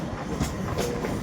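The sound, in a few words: Medinipur–Howrah local train running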